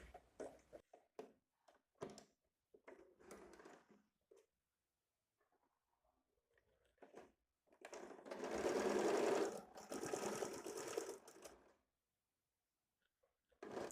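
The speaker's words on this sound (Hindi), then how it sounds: "अभी देखिए यहाँ पे और एक सिलाई दे रहे हैं पट्टी पे।" A sewing machine runs a line of stitching along the neck strip of a blouse, a steady whirring burst of a few seconds at close range, preceded by soft handling noises and brief quiet.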